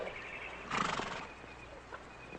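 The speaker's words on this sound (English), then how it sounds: "Beautiful horse." A horse gives a brief whinny at close range, with soft hoof clops on the ground around it, in a quiet outdoor scene from the 1962 film The Intruder.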